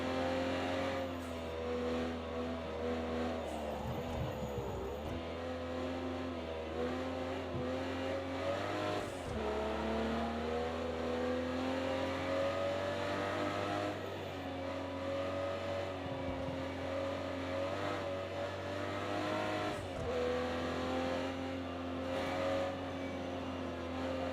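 An Aston Martin DB11 laps Bathurst in Project CARS 2, its engine note climbing through the gears and dropping sharply on shifts and braking, continuous and fairly quiet with no talk.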